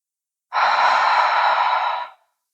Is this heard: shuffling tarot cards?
no